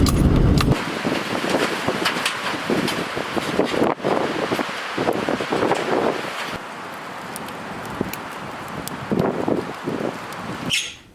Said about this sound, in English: It's blowing like crazy out there.